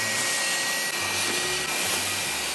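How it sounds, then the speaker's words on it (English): A vacuum cleaner sucking spilled chocolate milk out of carpet, a loud steady whine and roar with brief dips as the nozzle moves, no talk. "Now let's vacuum everything up."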